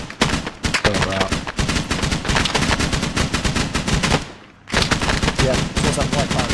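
Dense, rapid gunfire in a military video game, continuous overlapping shots and bursts with a brief lull near the end before the firing resumes, with voices talking over it.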